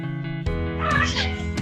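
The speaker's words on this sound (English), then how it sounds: "Oh, sorry if you can hear the cat." A pet cat meows loudly and close by, one drawn-out meow with a strained, wavering tone lasting over a second, heard alone in an indoor room.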